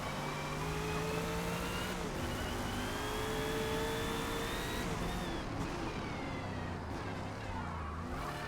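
McLaren engine in the Forza racing game, a loud, continuous whine whose pitch climbs and drops through gear changes, with a steady mechanical roar underneath and no talking.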